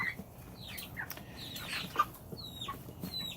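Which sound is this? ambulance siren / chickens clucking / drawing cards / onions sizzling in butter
chickens clucking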